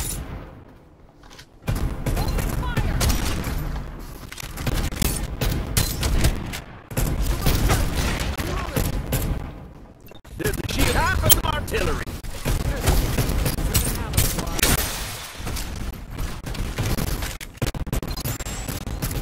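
Rapid bursts of automatic gunfire and impacts ring out in the battle royale video game Farlight 84, loud and close, broken by brief pauses, with in-game voice callouts over the shooting.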